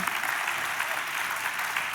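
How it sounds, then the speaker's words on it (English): Business forum audience applauding after an interview, a thick, even roar of many hands clapping, steady and loud across the short stretch with no individual claps standing out. "let's give another big round of applause"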